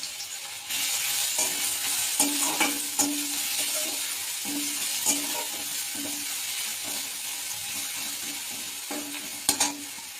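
Chopped garlic frying in a hot pan for a paneer tadka, a steady hiss of sizzling oil with scattered clicks and taps of a spatula, close and continuous.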